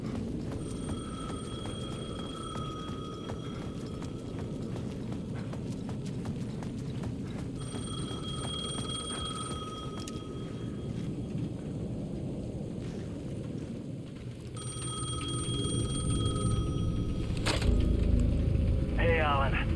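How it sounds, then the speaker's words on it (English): A ringing payphone at the edge of a plaza in Alan Wake 2 sounds in three separate bursts of repeated electronic rings. The bursts sit over a steady low rumble of rain and thunder-like ambience. "The payphone at the edge of the plaza was ringing again."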